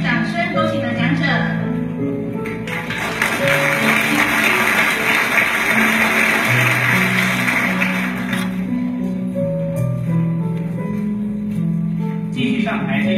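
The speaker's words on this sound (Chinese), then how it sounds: "让我们再一次掌声恭喜得奖者" A crowd applauds an award winner at a Police Day ceremony: broad clapping swells for several seconds, layered over music and a voice, then fades back beneath them.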